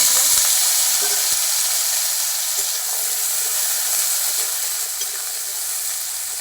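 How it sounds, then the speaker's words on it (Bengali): Potatoes sizzle in hot mustard oil in a wok, a steady, loud broadband frying hiss with a few faint clicks of stirring, no voices. "কড়াই গরম হয়ে গেছে, আলু দিয়ে দিলাম।"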